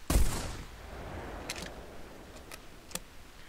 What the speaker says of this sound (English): how fast your target is moving, and the spread of the shotgun pellets